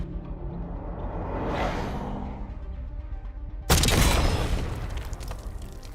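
A tube launcher shot in Black Ops 6 on the Vault map, a rising whoosh followed by a sudden loud blast and rumbling decay, set against ongoing game ambience.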